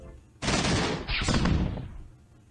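Animated Superman vs Hulk battle with gunfire and rockets: a loud, sudden blast bursts in, followed by a second roaring burst that trails off over a couple of seconds.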